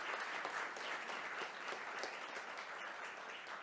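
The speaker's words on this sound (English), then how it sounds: "If we could have one more round of applause for all of our Teachers of the Year here tonight." An audience at a school board meeting applauds the Teachers of the Year, a continuous, fairly soft and slightly distant wash of many hands clapping.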